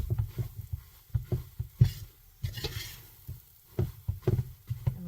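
A utensil stirs melting marshmallows and butter in a pan, making soft, irregular scraping and sticky tapping sounds with a faint sizzle, close and steady with no talking.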